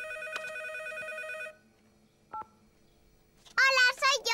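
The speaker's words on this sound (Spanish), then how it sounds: "A Caillou le encantaba contestar al teléfono." A telephone rings with a bright repeating electronic tone that stops abruptly, followed by a short beep and then a voice talking.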